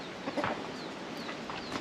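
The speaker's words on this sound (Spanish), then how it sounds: "Ahora le vamos a dar aquí a las gallinas comida" Hens on a farm on Chiloé Island, Chile, give a few soft clucks while being fed, set against a steady background hiss of outdoor noise.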